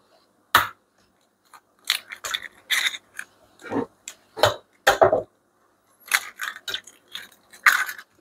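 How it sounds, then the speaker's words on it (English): Eggs cracked into a bowl while making carrot cake, heard as a series of close, crisp taps and cracks spread irregularly across the moment, with quiet gaps between them. "I have 3 eggs. Let me break them in."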